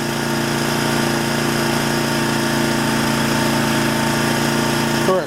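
A Sportsman 3500 watt inverter generator runs steadily right beside the listener near its exhaust, a loud, even engine drone with a constant pitch and no breaks until it cuts off abruptly at the end.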